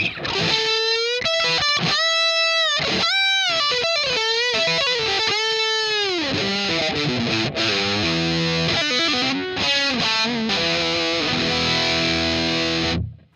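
A heavily distorted electric guitar through a Revv Generator amp and Two Notes Torpedo plays loud, sustained chords and bending notes, dry, raw and gritty, filling the whole stretch without pause.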